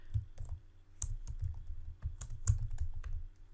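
Keys clatter in quick, uneven bursts of typing on a computer keyboard, with brief pauses between clusters of strokes, close and moderately loud with no voices.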